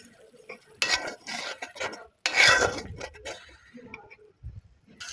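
Coriander powder with ginger and garlic paste being stirred in a pan for a rohu fish curry with cauliflower, giving bursts of scraping and clinking from a spoon against metal, with brief pauses between strokes.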